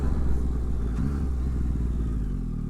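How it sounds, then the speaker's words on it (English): Yamaha 900cc motorcycle engine running steadily up close, a continuous low rumble with a brief clatter near the one-second mark, heard alone on a cold ride. "Anybody with the Yamaha 900cc motor"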